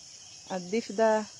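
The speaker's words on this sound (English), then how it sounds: "the frog chirp" A frog chirps in the morning outdoors, giving a few short tonal calls close together over a faint background hiss.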